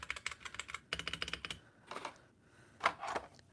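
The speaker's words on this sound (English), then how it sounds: "ASMR keyboard sounds." Fingers tap rapidly on a clicky ASMR-style computer keyboard, producing crisp close-up keystroke bursts, a short pause, then a few more scattered presses.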